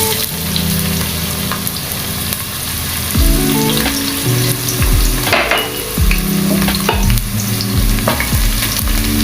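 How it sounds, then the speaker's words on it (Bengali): Chopped onions, about a cup, fry in a pan for hilsa pulao, a steady loud sizzle broken by repeated scraping stirs of a spatula through the onions. "পেঁয়াজটা সমান নেড়ে বাদামি কালার করতে হবে।"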